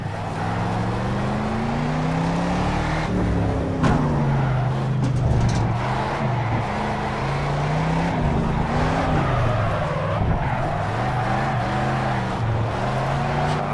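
Mercedes 300SEL 6.8 AMG V8 drifting in Project CARS, the engine droning loudly with rising and falling revs and clear gear changes, sliding continuously with no voices.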